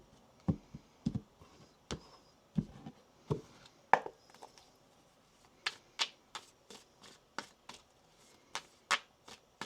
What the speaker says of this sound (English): I'm going to get one more shuffle here